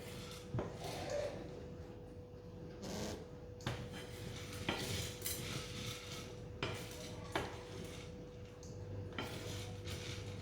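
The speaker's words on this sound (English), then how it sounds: "Just making sure that none of the beans get caught in the handle of the pan as well." Coffee beans being roasted in a pan on an induction stove rattle and scrape as they are stirred, with irregular clinks of utensil against metal over a steady hum.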